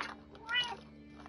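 A pet cat gives a short, soft meow over a voice-chat line during a Ghost Recon Wildlands gaming session, heard faintly alongside quiet background talk.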